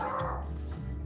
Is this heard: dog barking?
yes